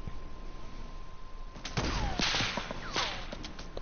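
Gunfire in Fortnite, with a quiet stretch giving way to a burst of loud, sharp cracks and whizzing shots in quick succession, then several further scattered reports.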